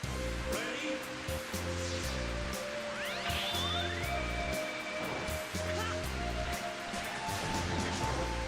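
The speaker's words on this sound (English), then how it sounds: "The rain." Constant rushing rain fills a scene in the video game Verho Curse of Faces, heard under a steady, rhythmic music bed and other game effects.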